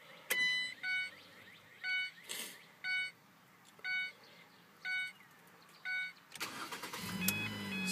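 A 2012 Ford Transit Connect Wagon sounds a repeating electronic chime about eight times at a steady pace. Near the end its engine cranks and catches with a sudden, louder mechanical roar.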